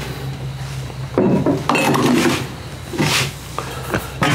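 A cooking pot is handled in a kitchen while making apple pie moonshine, with close metallic clanks, scrapes and knocks of cookware coming in a few irregular bursts.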